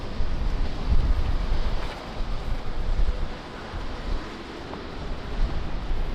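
Strong gusty wind at Lisbon Airport, a loud, rumbling roar buffeting the microphone and rising and falling without a break.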